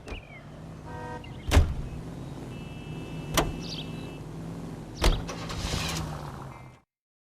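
A car drives in L.A. Noire, its low, steady engine hum running under a few sharp clunks and mechanical whirs, fairly close, with no voices.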